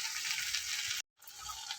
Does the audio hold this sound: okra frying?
yes